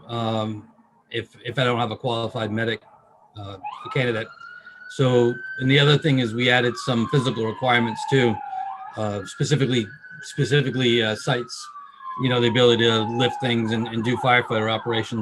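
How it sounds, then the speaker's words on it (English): Emergency vehicle sirens pass outside during a Lakeville Board of Selectmen meeting, a long wailing tone rising and falling faintly beneath continuous close speech from a man discussing hiring. "Sorry about the sirens."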